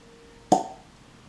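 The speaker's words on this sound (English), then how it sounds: "Actually, it is a cork, so let's hear that." A cork pops out of a bottle of Knob Creek 9-year bourbon: one sharp, hollow plop in a quiet room, decaying quickly, with nothing else heard.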